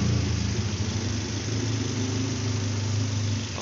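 A 2014 Toyota Rush sits with its engine idling after an automatic transmission oil flush, giving a steady, even low rumble that holds unchanged throughout with no voices.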